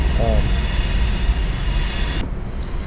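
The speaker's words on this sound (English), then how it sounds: "I had a bunch of outside noise happening there all of a sudden, train going by" A train rumbles past outdoors, a steady low roar with a brief high squeal of wheels near the start, heard from indoors at moderate loudness before it cuts off abruptly.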